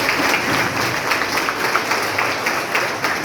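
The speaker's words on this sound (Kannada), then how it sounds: "ವಿದ್ಯಾರ್ಥಿಗಳು ಒಂದು ದೊಡ್ಡ ಚಪ್ಪಾಳೆಯ ಮೂಲಕ ಗೌರವ ಸಲ್ಲಿಸಬೇಕು ಅಂತ ನಾನು ಕೇಳ್ಕೊಂಡಿದ್ದೇನೆ" Students give steady, sustained applause for guest lecturers at a student association inauguration day in a hall, a dense crowd of clapping that holds even for several seconds.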